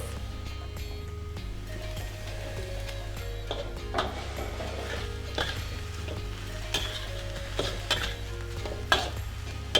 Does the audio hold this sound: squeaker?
no